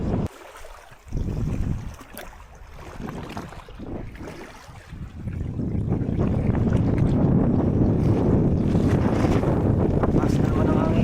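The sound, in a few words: strong wind at sea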